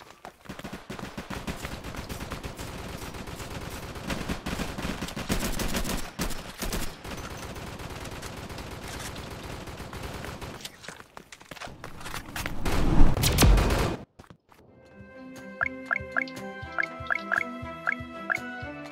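Rapid, dense bursts of raygun fire in the Roblox game Flag Wars ring out continuously and loudly for about fourteen seconds, then give way to quieter, sparse electronic blips and tones.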